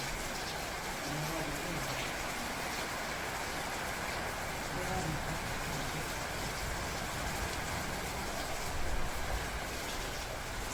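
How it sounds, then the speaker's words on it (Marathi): Steady heavy rain falls during a thunderstorm at a farm, a continuous even hiss of water at moderate loudness that barely changes across the whole stretch. "मुसळधार पाऊस चालू आहे."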